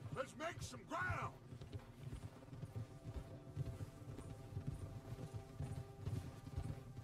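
Horse hooves clip-clopping in Red Dead Redemption 2, a steady quiet rhythm of hoofbeats under soft background game ambience, with a brief vocal sound near the start.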